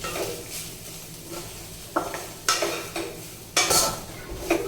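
Poha is lightly heated and fried in oil in a pan, heard as a soft sizzle under repeated scraping stirs of a spoon against the metal, close and intermittent with no speech.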